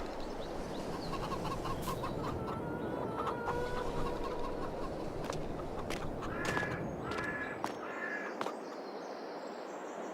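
Chickens in the video game Farming Simulator 22 cluck and cackle in scattered calls over a steady wash of ambient farm noise, with no one talking.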